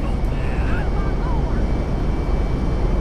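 Airplane engine in the video game GTA 5, a steady loud broadband roar with a faint whine riding on top, continuous throughout and under some low background chatter.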